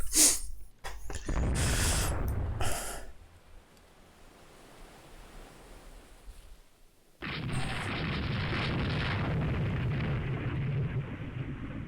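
Naval battle explosions in the wargame Rule the Waves 3, with loud booming blasts at the start, then a quieter rumbling lull, then a sudden sustained roar of blast and surf-like noise.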